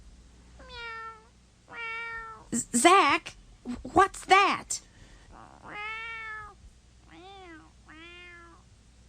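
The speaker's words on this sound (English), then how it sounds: "It's just a cat." Cat meowing in a children's learning audiotape, several clear drawn-out meows, close and prominent, with a voice speaking briefly in the middle.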